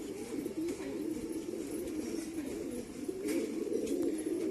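Pigeons coo steadily in a loft, a continuous low murmuring chorus of overlapping calls with no talk.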